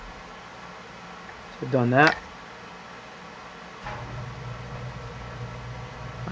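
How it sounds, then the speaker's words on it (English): A home furnace kicks on with a sudden low, steady rumbling hum that continues underneath; a brief spoken phrase comes earlier. "And of course, my furnace kicks in"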